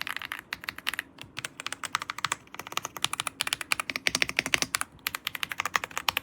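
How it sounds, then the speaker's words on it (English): An EPOMAKER x Aula F65 65% wireless mechanical keyboard with gray wood switches is typed on at close range, a quick run of crisp key clacks with brief pauses between bursts. "Alla F65 with gray wood switches. This is how they sound."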